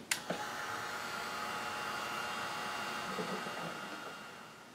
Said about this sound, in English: And then I'm just going to bring in my heat tool and dry this off.